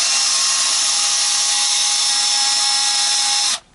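A power screwdriver drives screws into the wooden neck of a Fender Telecaster during a neck swap, giving one steady, loud, close whine that runs unbroken for over three seconds before cutting off sharply.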